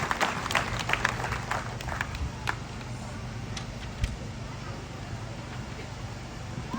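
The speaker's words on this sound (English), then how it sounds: "Please, let's give them another round of applause." Scattered outdoor applause at a road construction launch ceremony in Pader District, northern Uganda, with irregular claps that fade to sparse ones over a constant low background rumble and some voices.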